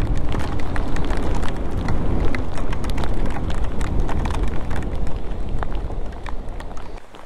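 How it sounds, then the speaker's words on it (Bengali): Heavy monsoon rain pours down during a motorcycle ride in the hills of Arunachal Pradesh, a dense, loud, continuous roar of rain with wind and road noise. "বেশ ভালোই বৃষ্টি হচ্ছে"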